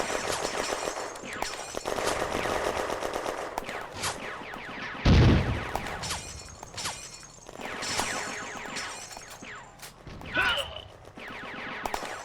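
Gunfire between a Panhard AMD 178 armoured car and an anti-tank gun in a WWII-era 1940 battle game, with scattered shots and a heavy impact blast amid battle noise.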